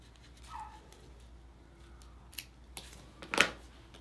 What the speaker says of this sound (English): Now sometimes you just need to snip a little bit out.